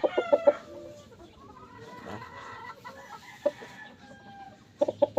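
An imported-breed rooster clucks in short bursts, with a few sharp close calls at the start and near the end and a drawn-out crowing phrase in the middle, with no one talking.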